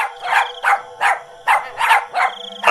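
A dog barks while racing to save a child on a railway track, seven loud, close, evenly spaced barks with slightly yelping edges, heard without any talk.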